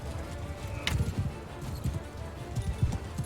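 Horses in the Mount and Blade Bannerlord video game: a steady patter of hoofbeats at moderate distance with faint snorts and whinnies mixed in, running under light background clatter.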